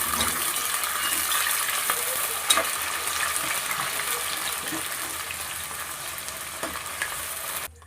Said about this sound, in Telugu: ఒక వెడల్పాటి గిన్నె తీసుకొని ఆయిల్ వేసుకొని, మెంతాకు వేసుకొని మంచిగా గోల్డెన్ బ్రౌన్ కలర్ ఫ్రై చేసుకోవాలి